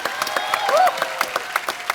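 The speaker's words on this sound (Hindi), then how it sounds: "जोरदार तालियां डॉक्टर साहब के लिए प्लीज" Studio audience applause for a doctor character on a comedy show, fairly sparse clapping with distinct individual claps and a faint whistle-like tone partway through.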